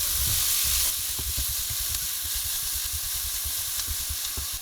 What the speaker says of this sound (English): We are going to saute this for about 2 minutes.